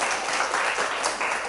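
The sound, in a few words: audience applause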